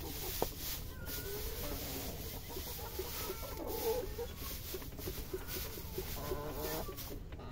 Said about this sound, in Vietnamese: Mấy cái con gà này tranh nhau đẻ xong là bới tung tóe hết cả lên.